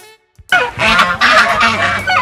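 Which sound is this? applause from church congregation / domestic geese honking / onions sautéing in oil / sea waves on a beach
domestic geese honking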